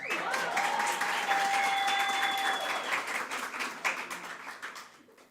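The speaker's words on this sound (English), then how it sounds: "I would also like an extra round of applause for Mika" A round of applause rises at a higher certificate graduation ceremony, dense clapping from the audience with a whistle or cheer on top, gradually thinning and fading out toward the end.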